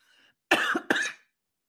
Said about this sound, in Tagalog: may ubo-ubo pa nga ako hanggang ngayon, di ba?